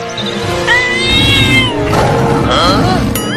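Cartoon cat letting out several drawn-out, wavering meows and yowls, loud and close, with voices talking over and between the cries.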